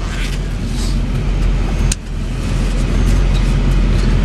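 A 2004 Chevy C5500 rollback flatbed truck driving, heard as a loud, steady low road and engine rumble from inside the cab, with a brief clunk midway.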